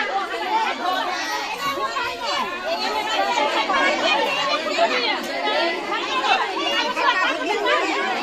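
Dense crowd chatter at a Govardhan puja gathering, many overlapping voices with children among them, steady and close throughout.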